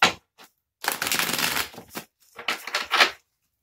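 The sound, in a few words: shuffling Lavish Earth oracle cards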